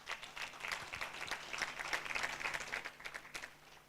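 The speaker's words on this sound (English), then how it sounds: "We need to clap them, ladies and gentlemen." An audience at a 25th-anniversary celebration of a chimpanzee sanctuary applauds, a steady patter of many hands clapping together, fairly faint and without voices.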